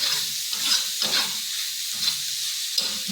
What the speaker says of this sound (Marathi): आपण आता कांदा गुलाबी होईपर्यंत परतून घ्यायचा आहे.